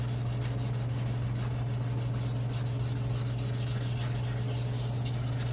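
A car headlight lens being wet-sanded by hand with 320 grit sandpaper, a steady close scratchy rubbing that continues without pause under a constant low electrical hum.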